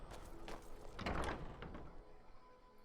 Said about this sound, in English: He started saying something and then just slammed the door in my face